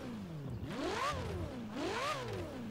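A Ferrari 488 Pista engine in Forza Horizon 4 revs twice from idle, each sweep climbing sharply and then dropping back, close up and fairly loud with no talking.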